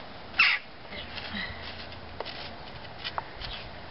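A jackdaw or rook gives a single sharp caw outdoors in Korsør, moderately close, followed by quiet rustling and a few faint, brief clicks.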